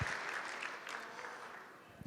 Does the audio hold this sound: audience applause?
yes